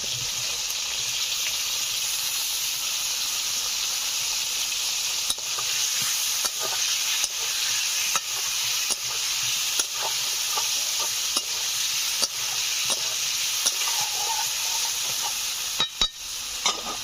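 Boiled new potatoes hit a hot pan for a freshwater boal fish curry, giving a loud, unbroken sizzle close up, with faint clicks and scrapes of stirring scattered throughout.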